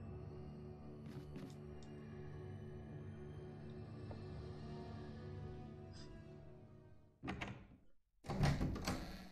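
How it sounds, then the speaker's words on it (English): A locked door being tried in the Resident Evil remake: a quiet ambient stretch, then two short dull thunks and rattles of the handle close by near the end. "That door's locked."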